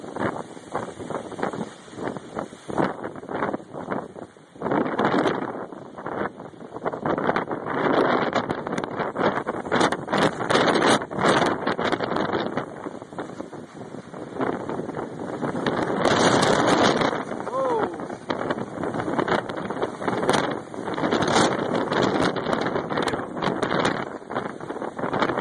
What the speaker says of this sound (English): This is what I'd call some heavy-duty wind.